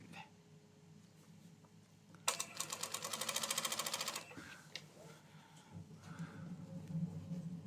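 A sewing machine stitches fabric in one fast, close, even run of about two seconds, set between quieter stretches of room sound and handling.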